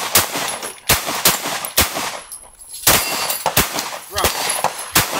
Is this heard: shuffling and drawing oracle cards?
no